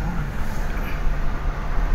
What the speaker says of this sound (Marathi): गाड्यांची भरपूर गर्दी आहे.